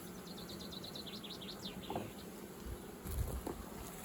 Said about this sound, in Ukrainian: Ці бджоли більш спокійні